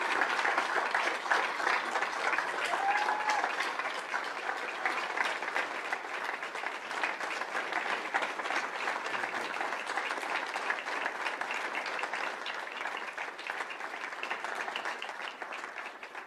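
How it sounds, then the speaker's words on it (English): Steady applause from a crowd at a school governing board meeting, many hands clapping continuously for a long stretch without pause. "A big round of applause, if we could, for Coach Taylor."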